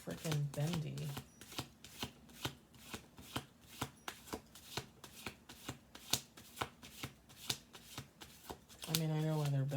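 Bent, bendy playing cards are handled and moved, giving a steady run of sharp, rhythmic flicks and slaps close by, with a voice heard briefly at the start and end.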